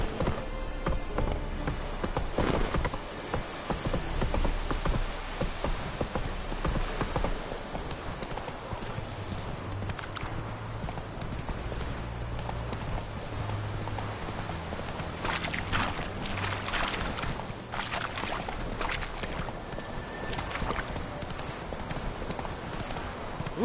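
A horse's hooves clip-clop at a walk in The Witcher 3, with steady, moderately close steps and a brief pickup in pace midway.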